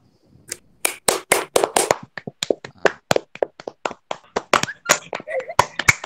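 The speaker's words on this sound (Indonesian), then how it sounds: "Tepuk tangan dulu untuk kelompok komodo." Children in a classroom clap for a group of classmates, a quick burst of close, sharp claps that turns into a looser, uneven patter of hands, with a voice briefly heard between claps.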